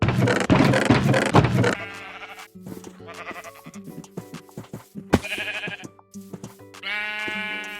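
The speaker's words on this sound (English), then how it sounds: "I also have to grab 2 sheep" Repeated sheep bleats from Minecraft, several short wavering calls spread across the clip with game sounds between them, fairly loud and close with no talking.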